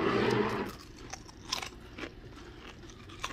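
Crunchy Kroger store-brand frosted flakes cereal chewed up close, an opening burst of crunching followed by irregular crisp crackles and bites fading over a few seconds.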